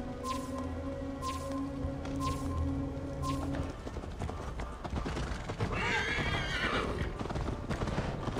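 Horse hooves pound in a fast gallop with neighing, amid a busy soundscape of music and effects from the video game Assassin's Creed Valhalla.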